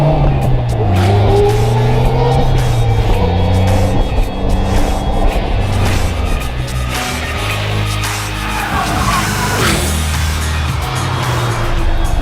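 A naturally aspirated Polaris engine in a tubular-chassis car revs hard and loud, its pitch climbing and falling through repeated gear changes over about twelve seconds of continuous, close engine noise.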